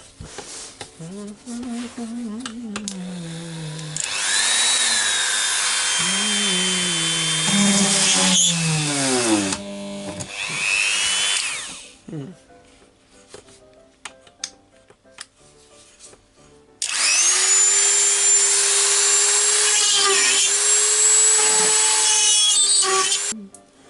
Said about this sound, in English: So I'm going to drill the little holes with the Dremel.